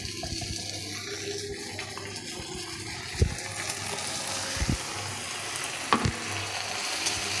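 A ground paste of ginger, garlic, chili, cumin and coriander with chopped tomato sautés in a pan, a steady close sizzle broken by a few sharp spatula knocks and scrapes against the pan.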